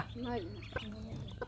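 Hens cluck and fowl call in a rural Bangladeshi yard where ducks have laid eggs and a hen is brooding them, several soft clucks and chirps close by over steady background noise, with no one talking.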